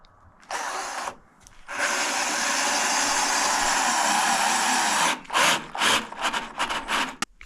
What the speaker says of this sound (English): Pop a screw into the end here.